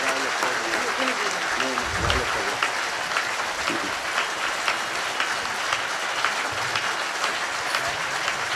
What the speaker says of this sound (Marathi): या सर्व संतांसाठी आणि अनुष्ठानार्थांसाठी 1 मिनिट टाळी वाजवायची